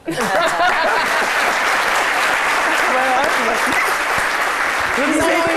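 A studio audience on a French midday television show claps loudly and continuously, a dense wash of applause with voices and a brief chuckle mixed in underneath.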